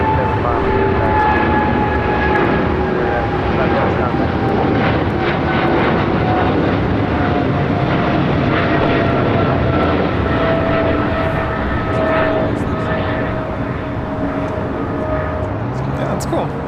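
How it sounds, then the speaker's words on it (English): An American Airlines Boeing 777-300ER jet taking off at LAX, bound for Dallas-Fort Worth, a loud sustained engine roar with whining tones that fills the whole stretch, with voices talking over it. "It's American Airlines Flight 2965 taking off to Dallas-Fort Worth on a 777-300ER"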